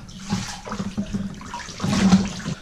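Water sloshes and splashes in a bathtub filled with 100,000 Orbeez, a close, continuous churning with swells of heavier movement as someone moves through it.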